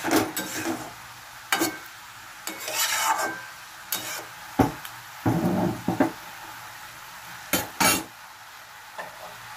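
A hilsa fish head goes into a simmering pumpkin and rice curry, with repeated clattering knocks and stirring scrapes of a utensil against the pan over a light bubbling sizzle.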